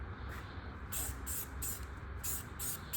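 A custom GM transport wheel is spray painted, with its white walls being coated. A steady hiss runs throughout, with about six short, sharp spurts of spray, each close and fairly quiet.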